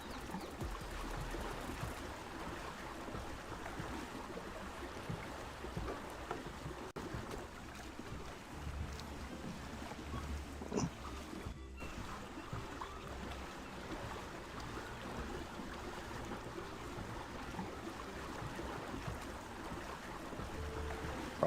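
Water sloshing and rushing while crossing open water in the survival video game ARK, a steady wash of waves and wind that holds at an even level throughout, with a faint low rumble underneath and no talking.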